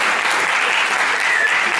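Applause from an audience at a talk about Alcide De Gasperi in Verona, a brief, dense, steady burst of many hands clapping, loud and close.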